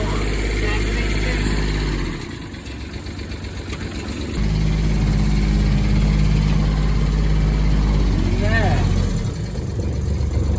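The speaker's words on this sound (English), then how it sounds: "Diesel power." A 2011 Kawasaki Mule 3010 diesel 4-wheel drive utility vehicle runs nearby with a loud, steady low idle that drops briefly and then picks back up, while people talk over it.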